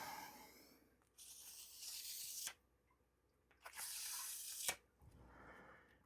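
A knife freshly sharpened on an Atoma 600 diamond plate slices through a sheet of paper, giving two quiet, crisp rasping cuts with a faint hiss between them.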